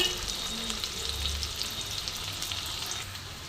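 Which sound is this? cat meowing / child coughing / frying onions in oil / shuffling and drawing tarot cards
frying onions in oil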